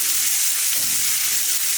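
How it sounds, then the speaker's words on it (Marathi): Cauliflower frying in a pan with onion, a steady close hiss of sizzling oil with faint stirring scrapes in the middle. "मी फ्लावर एवढा टाकून घेऊ छान भाजून द्यायचा बघा"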